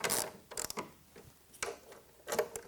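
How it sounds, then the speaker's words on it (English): A ratchet with a socket tightens bolts while a freestanding ladder is assembled in a garage, giving short bursts of clicking and metallic turning in quick spurts, close and fairly quiet. "for me, I'd rather just use a ratchet"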